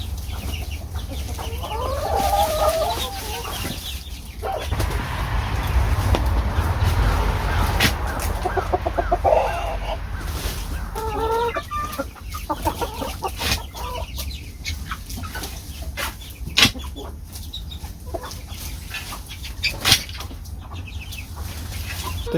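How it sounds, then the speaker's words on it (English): Hens and young roosters cluck and murmur inside a winter chicken coop, with scattered calls over a low steady hum. The birds sound moderately close, and a quiet voice comes in now and then. "a lot of the hens and some of the little baby roosters are hanging out in the coop"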